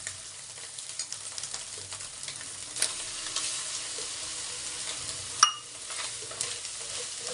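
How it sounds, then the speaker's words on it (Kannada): Egg fried rice with masala frying in a pan as lemon juice goes in, making a low, soft sizzle under irregular spoon scrapes and clinks, one sharper knock near the end, no speech. "ಈಗ ಇದಕ್ಕೆ ನಾನು ನಿಂಬೆಹಣ್ಣು ರಸ ಹಾಕ್ತಾ ಇದ್ದೀನಿ"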